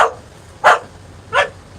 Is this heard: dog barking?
yes